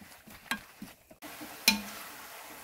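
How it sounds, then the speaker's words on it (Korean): Fish cakes seasoned with soy sauce are stir-fried in a pan, a few faint scrapes and clicks of a utensil over a low sizzle, quiet and close, with one sharper knock near the end. "뒤적뒤적 볶아주세요."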